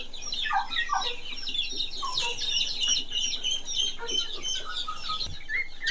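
Farm poultry, including chickens, turkeys, guinea fowl and ducks, cluck and chatter in a busy farmyard chorus, with scattered chirps and short calls overlapping continuously at moderate distance.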